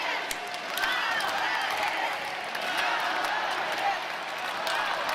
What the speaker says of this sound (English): Crowd have woken up.